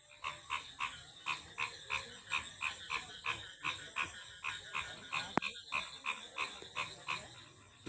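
Frogs croaking at night beside a wetland near a village cafe, a rhythmic chorus of regular pulsing calls repeating about twice a second, faint and steady with a single sharp click partway through.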